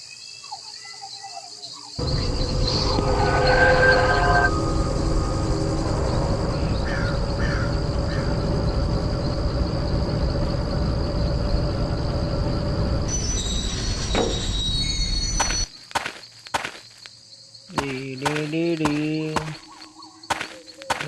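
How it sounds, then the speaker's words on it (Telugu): A train in a video game rumbles along with squealing wheels for over ten seconds, then gives way to clicks and tones from the game, while players chat over the sound. "నువ్వు ట్రైన్ నడుపు."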